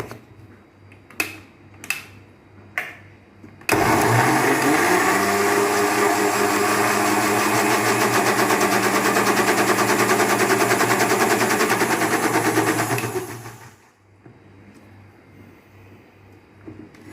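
A kitchen blender purees watermelon juice, roaring loudly and steadily for about ten seconds after a few sharp clicks, then winding down to quiet.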